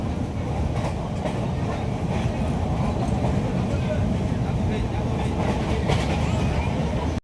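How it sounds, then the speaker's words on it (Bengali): A passenger train pulls out of Contai station bound for Digha, its steady rumble and rattling wheels loud and continuous for several seconds before cutting off. "এই এখানে কাথি স্টেশনে নেবে ট্রেন চললো, তার ডেস্টিনেশন অবধি দীঘা।"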